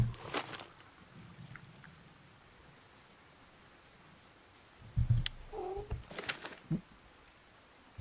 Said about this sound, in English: Got some cats up on the desk for their nightly visit to the stream here.